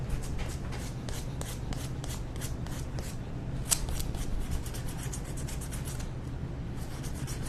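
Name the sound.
sander sanding a wooden egg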